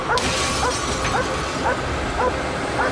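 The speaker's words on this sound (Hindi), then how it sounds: "इस कार पर भौंक रही है" A dog on hunt mode barks repeatedly at a car, sharp close yaps coming about every half second over a background of outdoor noise.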